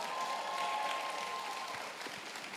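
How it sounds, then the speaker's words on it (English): Graduates at a regional certification ceremony applaud themselves, a steady, fairly distant wash of clapping from a large crowd with a faint sustained tone running beneath it. "Clap yourselves."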